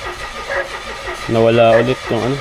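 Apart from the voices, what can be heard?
car engine cranking but not starting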